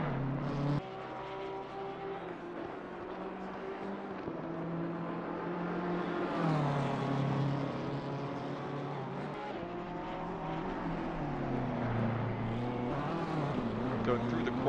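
BMW race car, number 213, in a racing video game lapping Laguna Seca and running through the Corkscrew, with a steady, loud engine drone rising and falling through the gears under continuous commentary.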